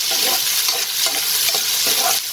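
Green capsicum and yellow bell pepper frying on a gas stove for pink sauce pasta, a loud steady sizzle broken by repeated rhythmic stirring scrapes.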